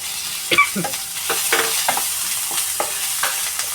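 Sliced onion sizzles in hot oil in a pan for a paneer pepper fry, with a steady crackling hiss under repeated close scrapes and clatters of a spoon stirring.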